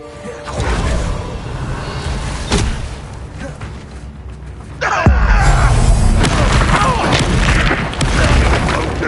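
A Confringo spell explosion in Hogwarts Legacy lands as a heavy boom with a whooshing burst around five seconds, followed by loud rumbling combat effects; earlier thuds and game ambience sit beneath.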